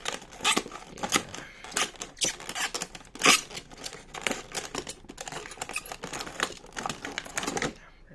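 Plastic blister packaging of a Marvel Select Apocalypse action figure being cut open with scissors, a run of crisp snipping and crackling clicks, close and fairly quiet, with no talk.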